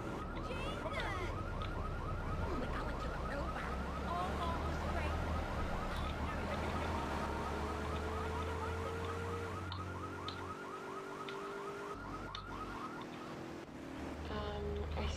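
Several car alarms in Grand Theft Auto 3 wail together with a warbling, repeating siren-like tone over a low engine rumble, loud and steady for most of the stretch before briefly dropping out and returning.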